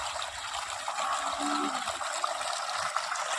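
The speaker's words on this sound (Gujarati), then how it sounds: "પાણીની કુંડી ભરાય છે ને તે જોવે છે." Water runs into a small storage tank on a farm, a soft, continuous rushing trickle that carries on steadily from start to finish.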